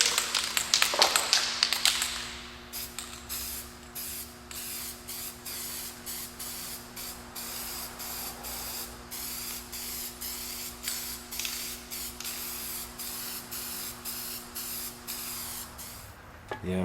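A can of gasket adhesive is sprayed onto a 2004 Toyota 4Runner transmission gasket, a short, fairly loud hiss at the start, followed by quieter tapping and handling noises.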